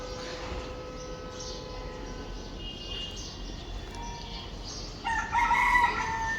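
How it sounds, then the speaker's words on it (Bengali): A rooster crows from a distance near a home in Dhaka city in the morning, one clear drawn-out crow near the end after quiet ambient background. "কোথায় একটা মুরগি ডাক দেয়"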